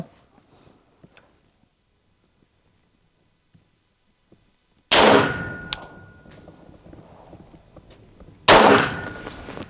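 Two loud, sharp pistol shots from a Grand Power LP9M chambered in 9x18, fired at a target about 15 metres away, about three and a half seconds apart with short ringing tails, after several seconds of near silence.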